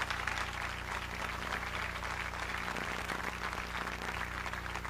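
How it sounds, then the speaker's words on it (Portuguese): Steady congregational applause fills a church service, a dense continuous wash of clapping with a constant low hum beneath and no clear break over five seconds. "Dê uma salva de palmas para Jesus."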